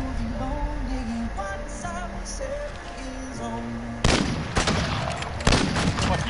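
Two sharp, loud shots from a Desert Eagle pistol in a video game ring out near the end, following a stretch of tonal game music and background sound.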